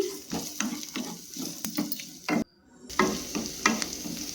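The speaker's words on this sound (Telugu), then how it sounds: "ఒక ఉల్లిపాయ కట్ చేసి ముక్కలు ఇందులో వేసుకుని దోరగా వేయించుకోవాలి" Onion pieces fry in half a spoon of oil with a soft, steady sizzle, broken by the clicks and scrapes of stirring, a brief silence in the middle, and no talk.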